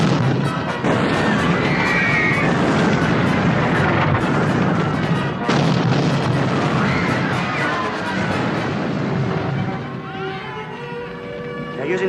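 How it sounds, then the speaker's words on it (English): Heavy artillery fire from big guns in a film battle scene during the siege of Peking, a dense continuous roar of booming blasts and crashes that thins out near the end. "They're using the big guns now."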